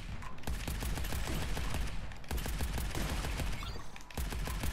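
Rapid bursts of gunfire from a weapon in the video game Arcadegeddon, loud close shots in quick sputtering volleys with brief pauses between them.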